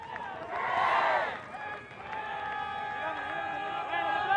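A crowd roars and cheers from the stands and sideline at a men's ultimate frisbee semifinal between Great Britain and Spain, a loud swell early that eases, then a steady din with voices mixed in.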